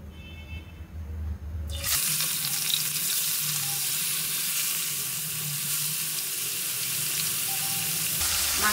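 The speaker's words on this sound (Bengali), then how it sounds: "এবার মাছগুলো সব একটা একটা করে" Koi fish frying in hot oil in a pan, a loud steady close sizzle that bursts up after a quieter start and carries on without a break.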